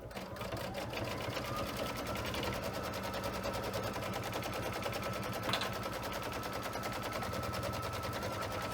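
Sewing machine stitching the middle layer of a quilted Kimberbell pillow cake block, a fast steady mechanical rattle running continuously at moderate level, with no talk.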